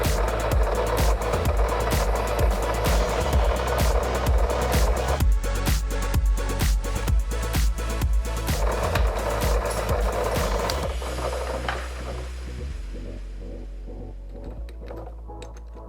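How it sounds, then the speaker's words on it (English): A small file rasps back and forth across a nylon washer being shaped for a speargun line reel, fast repeated scraping strokes close up that slow and fade toward the end. "Now using this small file, I'm gonna just make a small rod on this corner here and this one here."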